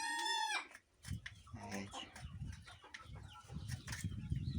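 A rooster crows loudly nearby, then chickens cluck and scuffle in a busy, noisy farmyard.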